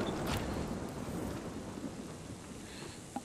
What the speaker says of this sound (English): So yeah, alright, so let's get away from this storm.